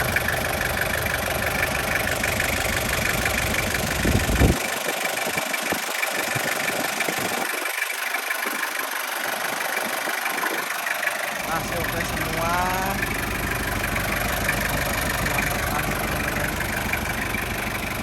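A 2000 Toyota LGX diesel engine with manual transmission idles steadily at close range throughout, with someone talking over its continuous rumble.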